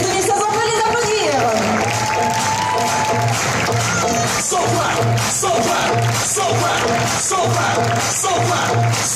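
Audience applause and cheering for Miss and Mister UCS 2016 at the Automnale 2016 event, loud and steady crowd noise with whoops, while music plays underneath throughout.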